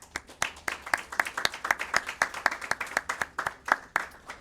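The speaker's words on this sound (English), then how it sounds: "I think you guys owe yourself a round of applause for the great job that you guys did in class" A small group at a class graduation claps in a quick, steady rhythm, the separate hand claps crisp and evenly spaced, carrying on for several seconds with no talking over them.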